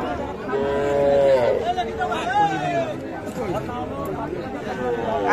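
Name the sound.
crossbred bull calf at cattle market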